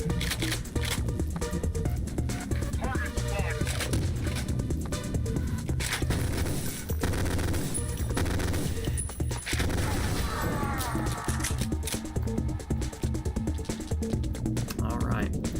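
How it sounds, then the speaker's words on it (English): The Penetrator submachine gun in the video game Ion Fury fires in rapid rattling bursts, dense and loud, with short pauses between strings of shots. Someone talks throughout. "The good news is, the submachine gun, the penetrator..."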